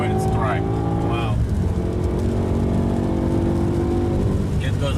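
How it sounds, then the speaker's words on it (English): BMW ring taxi at full throttle on the Nürburgring, a sustained engine drone heard from inside the car, with a rising gear-change whine near the start and people talking over the steady roar. "now we have 40 seconds full throttle when it's dry"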